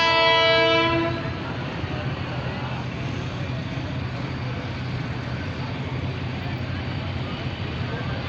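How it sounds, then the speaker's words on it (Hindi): A Karachi Circular Railway trial train arriving at Gani Chowrangi, its horn sounding briefly before a loud, steady rumble of rolling cars, with someone talking over it. "ये आ गई है ट्रेन गनी चौरंगी के पास। इसकी स्पीड भी अच्छी है"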